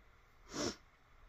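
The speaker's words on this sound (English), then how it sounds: "Excuse me, didn't mean to sniffle." A single short, breathy sniffle, faint and close, rising and fading within a fraction of a second against quiet background hiss.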